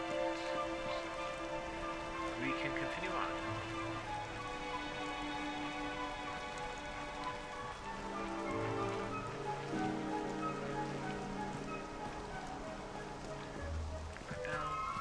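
Rain falls steadily in a video game as a constant wash of patter, with someone talking over it, game music tones, and a few brief footsteps or clip-clop sounds.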